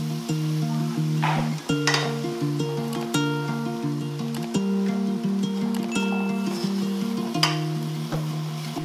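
Minced garlic and sliced carrots cooking in a pan with ginger, a steady sizzle broken by scraping stirs and clinks of a utensil, under a sustained tonal hum throughout.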